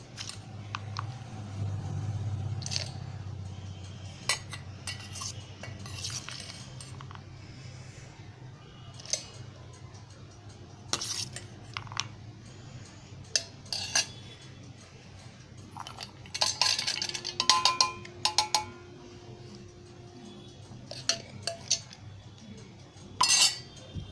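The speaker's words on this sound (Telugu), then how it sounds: "మిక్సీ జార్లోకి వేసేసుకుంటున్నాను" Peanuts, chillies and tomatoes are dropped and scraped into a mixer jar in a home kitchen, with sparse clinks, taps and rattles against the jar over a quiet room, no talking.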